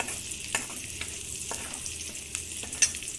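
Chicken for spicy chilli chicken frying in a pan with chopped ginger, a soft steady sizzle broken by several quick scrapes and knocks of a spatula as it is stirred, fairly quiet and close with no talk.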